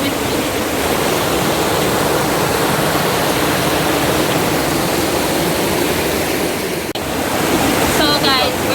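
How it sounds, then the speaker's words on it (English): A river in rural Jamaica rushes along Raheen Lane, flowing from Trelawny toward the Black River. Its loud, continuous broadband roar of water stays close and steady throughout, with a brief bump near the end. "this river actually is coming from Trelawney, and it is now a part of the Black River, so it's flowing all the way to the Black River"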